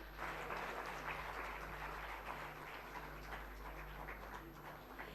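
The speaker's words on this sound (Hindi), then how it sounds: "इस स्वरूप तालियां जरूर होती रहनी चाहिए" Faint, continuous applause from an audience at a government scholarship event in Jharkhand, heard distantly beneath a steady electrical hum with no speech.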